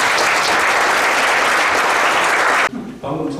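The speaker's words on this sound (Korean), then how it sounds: "모두 동의해 주시면 큰 박수를 부탁드립니다" Loud, sustained applause from an audience at a civic launch ceremony, approving the election of committee co-chairs; clapping fills about two and a half seconds, then cuts off abruptly and a brief, quieter burst follows.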